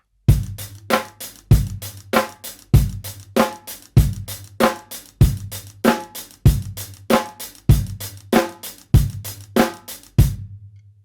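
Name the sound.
half-time 16th note rock drum groove, Moeller technique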